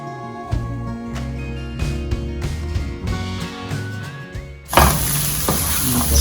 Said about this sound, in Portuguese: Vou dar uma fritadinha nele. Dar uma refogada nele aqui. Colocar um pouco de cebola para refogar junto.